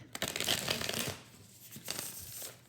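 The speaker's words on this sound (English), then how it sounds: "It's very easy to shuffle Llewellyn cardstock." Celestial Unicorn Tarot cards on Llewellyn cardstock being shuffled by hand, a dense burst of papery riffling and flapping that pauses briefly and then resumes, fairly quiet and close with no voices.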